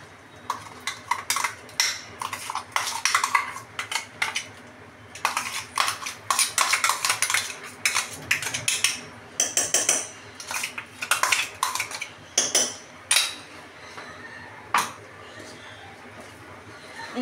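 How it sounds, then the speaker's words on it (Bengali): Paneer masala paste stir-fried in hot white oil in a kadai, heard as repeated metallic scraping and clanking of a spatula against the pan in irregular bursts, close and fairly loud. "এটাকে এবার আমি ভালো করে কষিয়ে নেব।"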